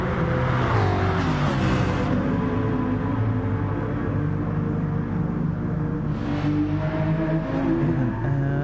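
Racing cars in GT Sport, a Lamborghini and a Mustang among them, hold a steady loud engine drone with rising and falling revs throughout, layered under game sound.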